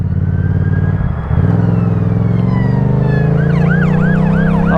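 A police siren wails close by, its rising and falling tone sweeping over the steady hum of a running motor vehicle.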